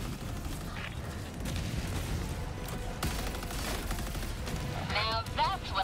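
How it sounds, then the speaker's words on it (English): Enemy artillery and heavy gunfire in the video game Helldivers 2 pound continuously in a dense battle din, with sharp blasts punctuating a rumbling backdrop and a voice breaking through near the end. "Warning, you are in range of enemy artillery."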